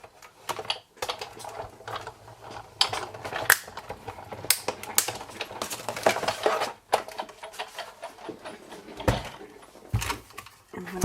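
A Big Shot die-cutting machine is cranked as cutting plates on a magnetic platform pass through it, giving irregular clicks, clunks and ratcheting knocks up close, with a person talking intermittently.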